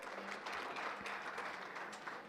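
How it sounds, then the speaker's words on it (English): An audience at a chamber of commerce annual awards gala gives a round of applause, steady dense clapping heard at a distance, moderately faint and continuous for a couple of seconds. "Give Gina a nice round of applause for leading us in that"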